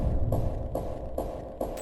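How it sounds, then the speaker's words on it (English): Horror-mode version of Sprunki robot character Kluker's cymbal beat, pressed down too far: a dark, muffled loop of soft clanking hits at a steady pulse over a rumbling low drone, no talking. "But in horror mode, it seems someone pressed his symbol down too far, making him sound like this."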